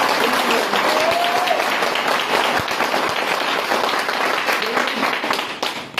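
Loud, dense audience applause at a company presentation event, a continuous clapping roar that holds steady before tapering slightly at the end.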